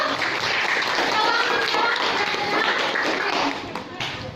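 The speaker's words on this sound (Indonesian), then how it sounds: "Tepuk tangan dulu." Students clap together in a junior high school classroom, a dense, steady patter of many hands that holds throughout and thins slightly near the end.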